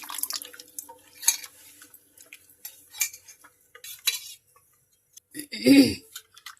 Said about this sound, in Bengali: এখন আমি নেড়ে নিচ্ছি